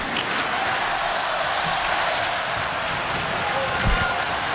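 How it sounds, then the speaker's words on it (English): Large hockey arena crowd at a Detroit Red Wings versus Florida Panthers game, a broad steady roar of voices chanting together, loud and sustained. "Let's go Red Wing chant from a large portion of this crowd."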